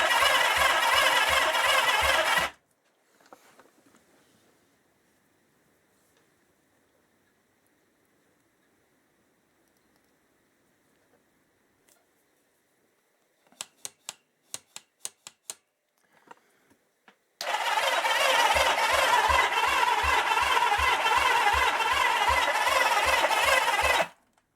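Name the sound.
Kawasaki KZ650 motorcycle engine cranking over, trying to start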